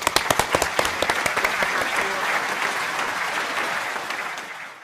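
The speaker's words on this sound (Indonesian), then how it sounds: "Kayak tepuk tangan dulu dong." An audience claps, with a few sharp early claps that swell into steady, fairly loud applause and then fade out.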